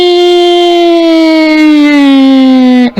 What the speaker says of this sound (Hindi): तभी पुलिस के सायरन की आवाज सुनाई पड़ी